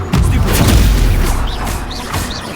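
Incendio fire spell cast in Hogwarts Legacy, a loud booming burst of magical fire with crackling roar sustained over the whole moment, amid game effects.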